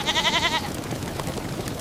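Goats bleating in a herd, one wavering bleat heard clearly at first and then fading into a quieter, noisy background.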